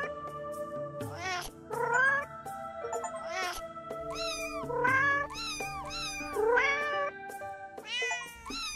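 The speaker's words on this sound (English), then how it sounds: "So many kitty cats." Cartoon cats meow over and over in a prehistoric-themed hidden cat video game with dinosaurs, with bright, close calls arriving in quick clusters over steady game music.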